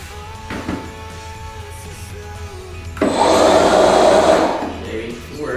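A Toro cordless electric power shovel motor starts after a few seconds and runs with a steady whirring hum, preceded by faint handling noises and a brief voice.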